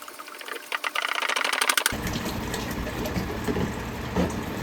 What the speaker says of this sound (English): Chug, chug, chug. As we empty the jug,